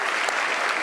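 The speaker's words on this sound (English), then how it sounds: "Give him a round of applause." A crowd claps for a running back at an award event, a dense, steady burst of applause from many hands, brief and fairly loud.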